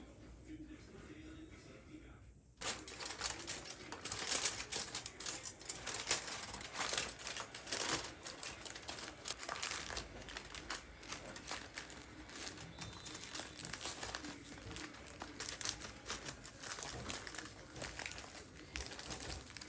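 Aluminum foil crinkles and rustles steadily while wrapping fish for an in-laws' home recipe, a dense, continuous crackling close by with people chatting over it.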